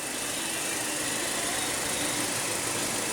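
The 1.8-liter four-cylinder engine of a 2015 Hyundai Elantra idles with a steady, even hiss and hum, constant in level and close by, with no talk over it.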